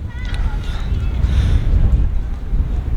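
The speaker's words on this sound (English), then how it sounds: "It's a wind." Strong wind buffeting the microphone outdoors, a continuous loud low rumble with gusting swells throughout.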